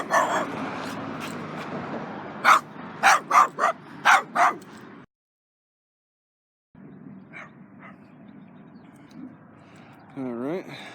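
Dogs bark repeatedly at a passerby outdoors, a quick series of sharp loud barks over steady background noise, then after a gap of silence a few fainter, more distant barks follow.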